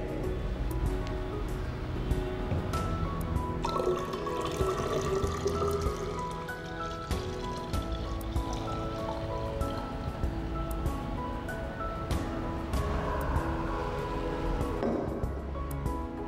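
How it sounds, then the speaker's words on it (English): 500 milliliters of water are poured into a 1 liter measuring cylinder, producing a steady, continuous splashing gush that runs loudly and close for the whole stretch without pause. "We now pour this 500 milliliters water into this 1 liter measuring cylinder."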